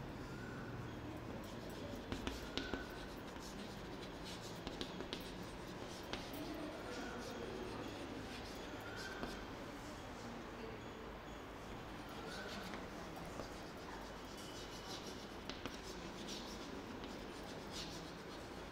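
A pen or marker writing out a math property, a faint steady scratching and rubbing at low level with soft taps, no clear voice.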